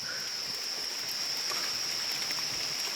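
Rain falls steadily at night outdoors, a constant soft hiss with faint scattered drops and a thin high insect-like whine above it.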